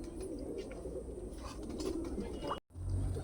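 A pair of Pakistani golden Kamagar pigeons coo softly in a pen, giving low, steady, rolling calls close by over a dull background rumble, then a brief cut in the sound.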